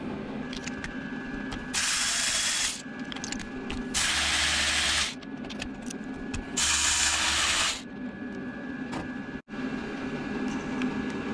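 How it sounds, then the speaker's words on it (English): A deep 5/8 socket on a ratchet works loose SeaDoo spark plugs, with three bursts of fast clicking pawl ratcheting, each roughly a second long, close up over a steady mechanical background hum. "You can use just a standard socket. It's a 5/8 as long as it's a deep depth. And what you'll do is just kind of loosen it"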